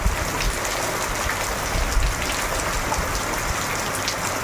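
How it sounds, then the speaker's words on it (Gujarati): A steady downpour of heavy rain in Nekur village, Kankrej taluka, Gujarat, hisses continuously, loud and close, with scattered drops pattering on a surface and no voices. "અત્યારે વરસાદ"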